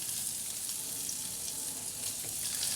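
Vegan square sausage frying in vegetable oil, giving a steady, close, bright sizzle with a constant hiss and small crackles throughout, no voices.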